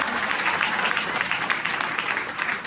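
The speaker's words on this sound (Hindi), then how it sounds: "एक बार जोरदार तालियां" A seminar audience applauds loudly and steadily, a dense, continuous clapping that fills the whole moment without voices.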